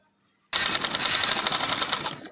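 A sewing machine stitches trouser fabric for a boutique-style design, starting suddenly after near silence and running in a fast, even rattling burst for about two seconds, close and loud.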